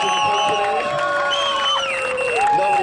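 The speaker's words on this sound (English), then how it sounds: "I just want everybody to give themselves a round of applause" A rally crowd at a Toronto freedom rally cheers, whoops and applauds in a loud, steady wash of voices, with shouting rising and falling throughout.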